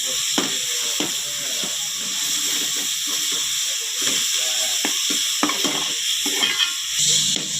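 Onion paste frying with ginger-garlic masala for a stuffed brinjal curry, a steady sizzling hiss broken by repeated scrapes and clacks of a stirring spoon against the pan, close and continuous, with no voices.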